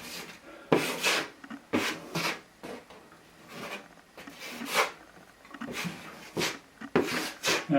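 A cheap dollar-store trowel spreads compound over a drywall hole repair in repeated scraping strokes, close and uneven in loudness, each swipe a short rough rasp with brief pauses between.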